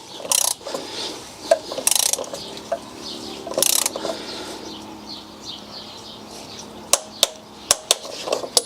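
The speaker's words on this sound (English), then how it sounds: "Now we'll just torque it down to 25 Newton meters." Torque wrench tightening a Bosch oil filter into its housing, with scattered metallic ratchet clicks and clanks, then a sequence of sharp separate clicks near the end, close and fairly loud.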